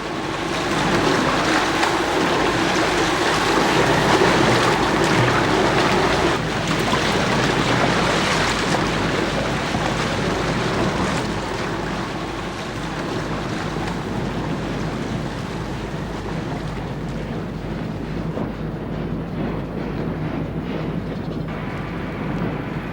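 A historic paddle steamer on the Elbe at Hamburg, a steady, dense churning wash of engine and water that fills the whole stretch, loud at first and easing slightly later on, with no voices.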